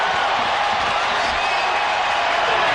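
Football fans in a packed stadium at the Super Bowl between the Cowboys and Steelers send up a steady, loud roar of cheering with no break.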